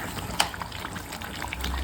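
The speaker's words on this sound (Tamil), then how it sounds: "1 கப் தண்ணி ஊற்றிக்கலாம்." Water gushes from a cup into a pan of simmering crab curry masala, a brief steady pour with a small splash at the start, close and fairly loud.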